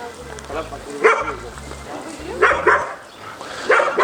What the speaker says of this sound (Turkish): Şimdi Alman çoban köpekleri iki tane